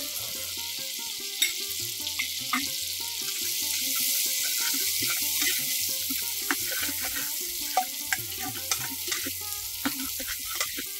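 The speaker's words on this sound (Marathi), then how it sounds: "आपण आता हे वाटण सगळ्यात पहिल्या या फोडणीत परतून घेऊ." A ground spice paste fries in hot tempering oil with a continuous loud sizzle, while a spoon stirs it with sharp scraping taps against the pan, close and without talk.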